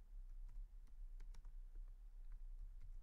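A computer keyboard is typed on in a quick run of soft, close keystrokes over a low steady hum, with no voice.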